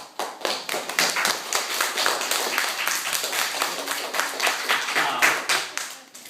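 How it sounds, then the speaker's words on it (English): Students in a classroom clap for themselves: a fairly small group with distinct, sharp individual claps in an uneven rhythm that holds steady, then thins out toward the end. "give yourselves a round of applause"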